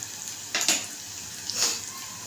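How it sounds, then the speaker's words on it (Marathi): Chopped onion frying in oil inside a pressure cooker: a steady bright sizzle with a couple of louder stirring scrapes, close up and heard alone. "कांदा चांगला परतून घ्यायचा आहे"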